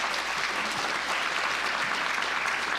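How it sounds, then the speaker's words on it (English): A steady wash of applause from the audience at an AI summit event, dense continuous clapping throughout, fairly loud and without a break. "Can we get a round of applause for the guests here?"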